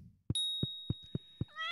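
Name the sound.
cat meowing in Stardew Valley, video game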